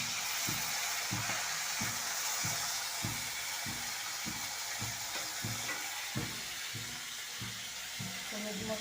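Fish fries in a pan with a steady, close sizzling hiss, while a regular low thumping repeats underneath throughout.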